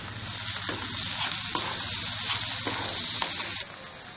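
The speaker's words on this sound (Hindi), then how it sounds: "अच्छी तरह मिक्स करेंगे" Pumpkin halwa with sugar stirred in a frying pan gives a steady close frying sizzle, broken by regular scraping strokes of the spoon against the pan, with no talking.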